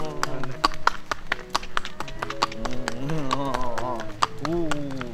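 Horse hooves clip-clop in a steady, fairly close rhythm of sharp taps while people talk over them throughout, the voices loud and continuous above the footfalls.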